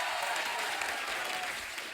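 Continuous applause from a large studio audience on The Kapil Sharma Show, a dense, even roar of many hands clapping, steady and fairly faint, with no voices standing out.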